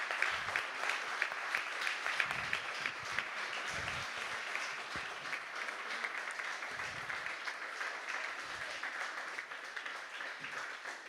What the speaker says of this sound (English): they deserve a huge, huge round of applause